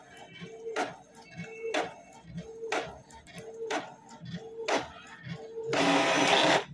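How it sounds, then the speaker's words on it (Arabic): An inkjet printer runs a test page, its print head sweeping back and forth in a steady rhythm of regular mechanical passes, ending in a louder burst of whirring as the sheet feeds out; nearby and fairly quiet. "اهي التيست طبع لنا بالطريقه ديت او زي ما انتم شايفين طبعت لنا التيست اهو"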